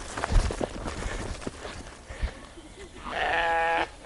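Footsteps and scuffling thud nearby, then a single loud, wavering bleat of a sheep cuts through near the end.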